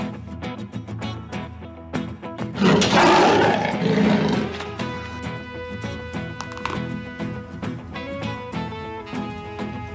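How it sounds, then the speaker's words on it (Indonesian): A leopard gives a loud, rasping roar lasting about two seconds near the start, set against steady background music that continues throughout. "Ini adalah macan tutul."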